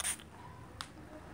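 A spray bottle of chilled plain water mists a face with a quick, soft spritz, followed by a second, fainter puff shortly after, close and quiet with no talking.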